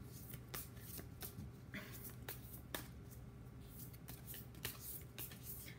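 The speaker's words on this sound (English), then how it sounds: "this card just popped up as I was shuffling" Oracle cards are shuffled continuously in a steady rhythm of crisp, repeated riffles and flicks, close but fairly quiet, with a little faint background voice.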